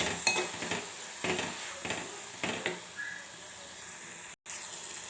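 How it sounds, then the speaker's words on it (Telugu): Turmeric being stirred into green chillies frying in oil in a pan, heard as about five separate scraping strokes of a utensil against the metal with a soft sizzle underneath, fairly close and with no talk. "ఇప్పుడు కొద్దిగా పసుపు కూడా వేసేసుకుందాము వేసేసుకొని ఒకసారి కలిపేసుకుందాము"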